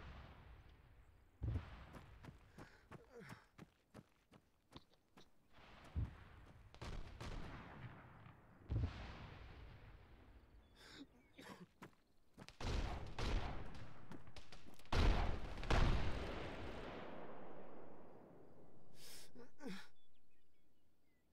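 Gunshots in a military video game are scattered sharp reports at first, then heavier clustered bursts and rumbling blasts. The shots are fairly faint and sit against a quiet background.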